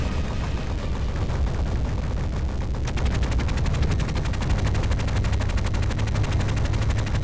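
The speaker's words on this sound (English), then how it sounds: "Get out of here with that freaking machine gun." Rapid machine gun fire from the 1989 Teenage Mutant Ninja Turtles arcade game, an unbroken stream of fast, even shots over busy game noise that grows slightly louder partway through.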